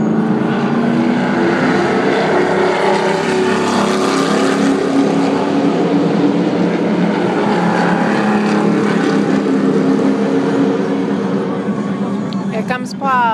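Loud, steady engine roar of a NASCAR stock car circling a track during a ride-along, a continuous drone that swells slightly as it speeds up on the straightaway, with a voice faintly beneath the noise.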